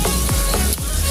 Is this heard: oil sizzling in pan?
yes